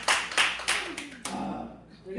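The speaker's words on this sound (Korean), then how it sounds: "박수 한번 주세요." A church congregation gives a short burst of clapping, a few loud claps that fade as a voice speaks over the tail end.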